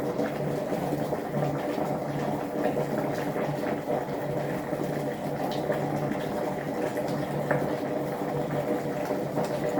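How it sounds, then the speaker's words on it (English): Water boiling in an electric kettle gives a steady, dense bubbling rumble and hiss that holds evenly throughout at moderate loudness, with no voices. "I'm going to let it keep boiling"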